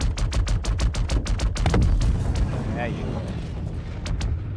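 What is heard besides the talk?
gunfire and buggy explosion, Star Citizen video game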